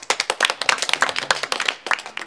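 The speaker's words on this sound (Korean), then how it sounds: "박수" A studio audience breaks into brisk applause, with many hands clapping in a dense, lively patter that stays close and steady to the end.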